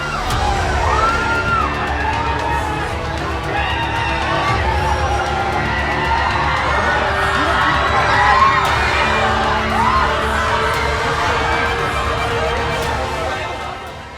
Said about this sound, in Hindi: पीछे से अल्लू अर्जुन को देखकर रोमांच में डूबी भीड़ के चीखने और चिल्लाने की आवाजें सुनाई दे रही हैं